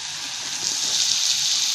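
Onion frying in a pan over a medium gas flame gives a steady, close hiss and sizzle that swells slightly partway through, with no voices.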